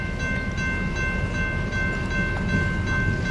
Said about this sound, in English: the westbound loaded coal drag coming out of the yard